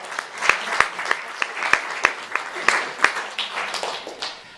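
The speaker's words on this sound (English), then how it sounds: "Let's clap for Mary." A small audience claps for Mary with sparse applause. Several sharp, distinct hand claps stand out near and loud over a softer patter of clapping that fades slightly at the end.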